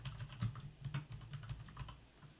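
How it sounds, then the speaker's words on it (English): Keys clatter on a computer keyboard as text is entered, a steady run of close, crisp keystrokes in uneven rhythm with no voices. "we're going to type in shipping policy"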